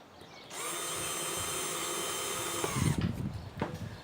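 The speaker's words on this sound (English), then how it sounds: "all I'm doing is drilling a little pilot hole" Power drill boring a small pilot hole into the end of an MDF off-cut, a steady close whine running about two and a half seconds before winding down with a few knocks and clatters.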